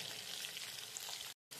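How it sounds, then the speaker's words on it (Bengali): Potatoes frying in oil with turmeric and salt make a steady, dense sizzle, close and fairly quiet, broken by a brief silent gap near the end. "আলুগুলো আমি ভালো করে ভেজে নেব।"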